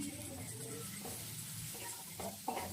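Coriander powder and Kashmiri chilli powder are stirred together in a pan for an elephant foot yam and prawn curry, giving a steady close scraping and soft sizzle with a few sharper spoon knocks near the end.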